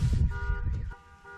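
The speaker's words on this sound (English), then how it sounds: "I don't know why we got our freaking car alarm going off in the hills." A car alarm sounds in the hills in winter, with steady electronic tones under a loud rumbling gust at the start, then continues faintly.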